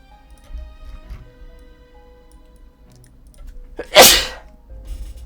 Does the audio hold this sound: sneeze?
yes